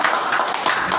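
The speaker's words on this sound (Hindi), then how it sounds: "इनके नाना जी के लिए जोरदार ताली" Applause for an elderly grandfather who has taught yoga for 35 years, a dense burst of many hands clapping loudly and steadily throughout, close and full, with no voices standing out.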